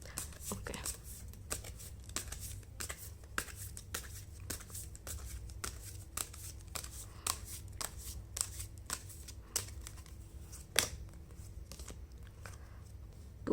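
Tarot cards being shuffled by hand: a steady run of soft, papery riffling snaps repeating about twice a second, quiet and close, with a faint low hum underneath and no talk.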